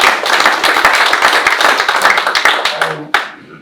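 An audience bursts into loud, close applause, a dense rapid patter of many hands that tapers off into scattered final claps toward the end.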